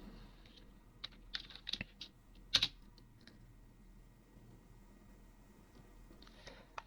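Computer keyboard being typed on: sparse, quiet key clicks in an irregular rhythm, with a slightly sharper press near the middle like Enter, close by in a quiet room.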